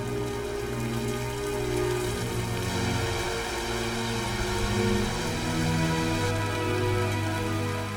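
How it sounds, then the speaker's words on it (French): Steady rain falls over a Mekong River setting as a storm gathers, a continuous broadband patter close by with no pauses and no voices, ending a dry spell. "La pluie est enfin de retour."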